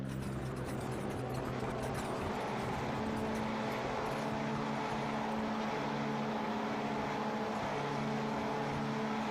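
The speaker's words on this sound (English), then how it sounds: "Cars are lined up, engines ready to rev" Race car engines in the iRacing video game hold a loud, steady droning rev at a rallycross start, several motors blending into one continuous sustained roar with no voices.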